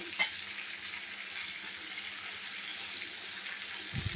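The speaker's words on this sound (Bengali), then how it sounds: "এটা একটু অল্প অল্প করে জল দিয়ে অনেকক্ষণ কষাবো।" Goat meat sautés in a pan with a little water, giving a soft, steady sizzling hiss close by, opened by a short clatter and ending with a low thump.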